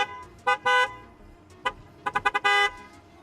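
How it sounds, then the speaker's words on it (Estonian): Horn of a BMW E46, sounded in a few short toots followed by a quick burst of rapid beeps and one longer honk, loud and close with no talk. "Vaatame, kas ta tuutu ka teeb."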